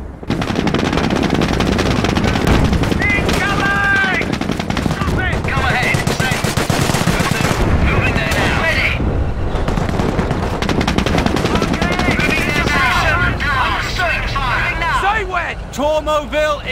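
Machine gun fire in the World War II strategy game Company of Heroes during a battle for Hill 112 near Caen, with loud sustained bursts mixed with other gunshots and shouting soldiers.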